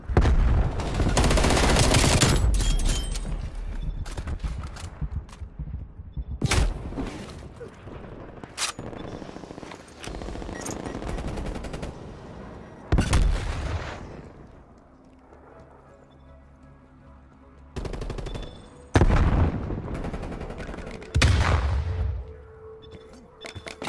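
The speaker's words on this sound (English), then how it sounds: "Throwing grenades." Grenades thrown in the Call of Duty Black Ops Cold War video game, loud sharp bursts and blasts recurring irregularly over a quieter stretch of mechanical game noise.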